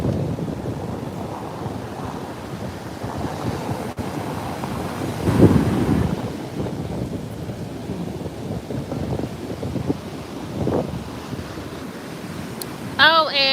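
Wind and ocean waves roll continuously at a beach, a broad steady roar with gusty surges and one louder swell midway; a voice talks intermittently over it.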